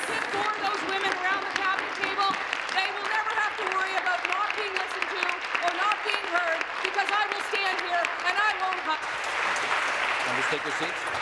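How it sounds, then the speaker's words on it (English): Sustained applause from colleagues fills a legislative chamber during question period, a dense steady wash of clapping that runs for several seconds under a talking voice. "congratulations for applauding"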